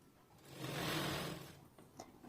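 A sewing machine stitches a folded strip of fabric, a short, soft, steady whirring run that rises and fades within a couple of seconds, heard close but quiet with no talk.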